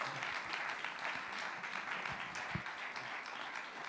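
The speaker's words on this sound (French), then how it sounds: "Est-ce qu'on peut encore acclamer une fois de plus" Audience applause after a question-and-answer session, a steady dense wash of clapping from a crowd, sustained and fairly distant throughout with no talk over it.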